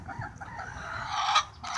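Backyard chickens cluck and a rooster crows in a short burst close by, the calls rising and overlapping with no talking.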